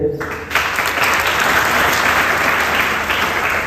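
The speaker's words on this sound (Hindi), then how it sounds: "आप एक बार सब अपने लिए जोरदार ताली बजा लीजिए" An awards-ceremony audience at a school event bursts into dense, loud applause that holds steady for several seconds after a brief quiet start.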